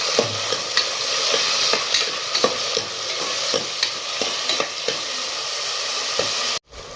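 Finely chopped onions frying in a pan while being mixed, with a constant bright sizzle and regular spoon knocks and scrapes against the pan. The sizzle cuts off abruptly near the end.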